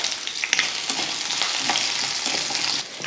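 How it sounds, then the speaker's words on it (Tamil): Garlic, ginger, green chillies and onion sizzle and fry in hot oil for a chutney, a steady close crackle with occasional stirring scrapes throughout, no voices. "இதை வதக்கிடுவோம்."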